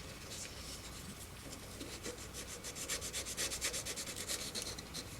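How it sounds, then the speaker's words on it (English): Sandpaper rubs back and forth over grooves on a plastic model kit part for a 2001 EVA pod, a close, hissing scrape that settles into quick, even strokes. "I'm going to run a little bit of sandpaper on those grooves too"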